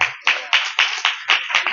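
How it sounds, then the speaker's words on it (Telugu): A church congregation at a Sunday service claps their hands in a quick rhythmic run of about seven sharp, loud bursts with short gaps between them. "చప్పట్లు కొట్టండి"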